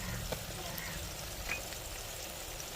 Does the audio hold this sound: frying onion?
yes